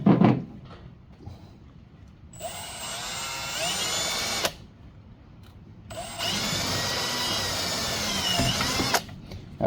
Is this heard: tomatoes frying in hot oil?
no